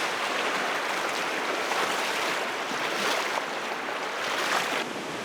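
Rushing river rapids on the Leaf River in Ungava, Canada: a dense, steady roar of churning whitewater filling the whole clip, loud and close, with no voices.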